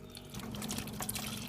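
Water pours from a home water filter in a kitchen, a close, steady trickling splash lasting a moment with no talking.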